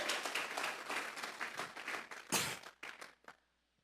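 A church congregation applauds together at a worship service, a dense burst of clapping that thins out and fades to silence near the end.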